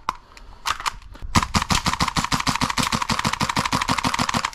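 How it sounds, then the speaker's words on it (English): A gas blowback airsoft gun fires rapidly, a few separate shots followed by a long even burst of sharp, close cracks at a steady rhythm. "Pretty sluggish with the rapid fire because it is a gas blowback"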